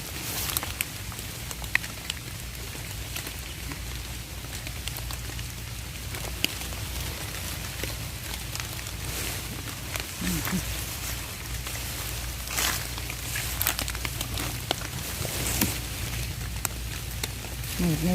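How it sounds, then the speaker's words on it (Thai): Steady rain falls in a forest, pattering continuously for the whole stretch, a dense even hiss of drops with occasional louder drips, alone and without pauses. "ฝนมันตก"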